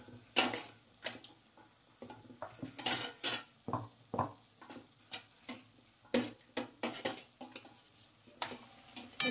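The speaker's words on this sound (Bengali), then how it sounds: "নুনটা দিয়ে ভালো করে নাড়াচাড়া করে নিচ্ছি।" Meat being stirred with salt in a metal pot, heard as repeated clinks and scrapes of a utensil against the pot in an uneven rhythm, close and fairly quiet, with no talking.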